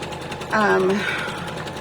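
A single-needle embroidery machine runs a short stitching burst in the middle, fairly close and steady, with a faint background hum around it.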